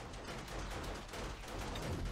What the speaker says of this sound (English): Have to resort to the SMG.